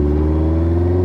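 A loud motorcycle engine running with its stock muffler removed, giving a steady, close, throbbing rumble with strong low harmonics and no pauses.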